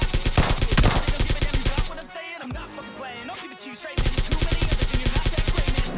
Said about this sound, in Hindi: मैं तो ऐसे ही गोलियाँ चलाया जा रहा था